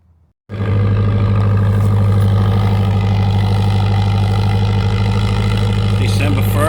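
The engine of a 1977 Triumph TR7 fires up abruptly on a cold December morning and settles into a loud, steady, close idle with an even low rumble.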